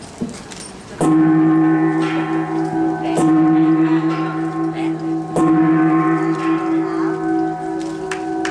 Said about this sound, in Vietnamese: sẽ lên đánh chiêng khai mạc